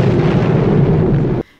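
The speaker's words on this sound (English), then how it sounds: "if your clay is too thick and thus still wet when you put it in the kiln, can cause your project to explode" A clay project bursts in a kiln because the clay was too thick and still wet. It sounds like a loud, roaring blast that holds for about a second and a half, then cuts off abruptly into near silence.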